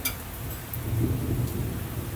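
Rain with rolling thunder in Delhi: a steady, close wash of rainfall under a low, swelling rumble of thunder that builds and lingers through the short stretch, with no voices.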